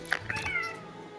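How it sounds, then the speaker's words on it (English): Pet cat meowing close by, a couple of short calls followed by a longer drawn-out meow, loud and alone against quiet background noise. "That is my cat."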